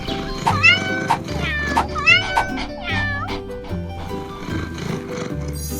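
A cat meows repeatedly in a series of short, rising and falling calls, close and fairly loud over a steady low musical backing, with no talking.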